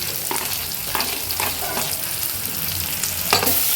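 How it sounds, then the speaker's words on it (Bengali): Food sizzling in a pan while being stirred with spiced curry seasoning of cumin powder, salt and a little sugar, a continuous close frying hiss broken by repeated scraping strokes of the spoon. "আমি নাড়তে থাকবো।"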